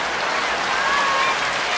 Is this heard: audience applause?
yes